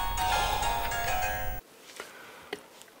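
A phone rings with an incoming call, a loud electronic ringtone that cuts off abruptly partway through, followed by faint handling clicks and rustles.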